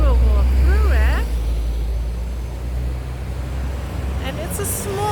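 Busy street traffic in the town of Thun, Switzerland, a loud, continuous rumble of passing vehicles close by, with a person talking over the noise.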